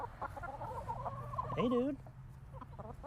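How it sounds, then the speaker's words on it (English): A pet chicken clucks close by in a casual hangout, short rising squawky calls under light talk and background noise; people speak briefly in the clip. "Oh my God, I have a chicken."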